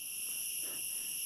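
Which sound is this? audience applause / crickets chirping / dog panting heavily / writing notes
crickets chirping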